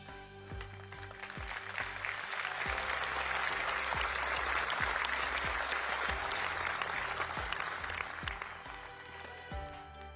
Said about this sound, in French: Que vos applaudissements les encouragent